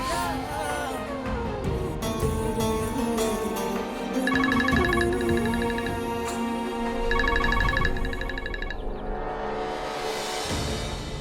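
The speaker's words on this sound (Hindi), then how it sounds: "घर से फोन आ रहा है" A phone ringtone chirps in two repeated bursts, playing over ongoing background music.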